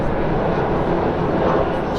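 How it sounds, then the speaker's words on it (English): An EasyJet airliner passes overhead on its landing approach to Southampton Airport, a steady broadband engine roar that holds at even strength throughout, with a voice talking over it. "There's an airplane going over."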